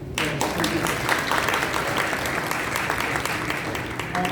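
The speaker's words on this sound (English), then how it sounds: "Please give them a big applause." An audience at an interfaith Iftar event in Chicago applauds, a steady and fairly loud wash of clapping from many hands that holds throughout, with some voices mixed in.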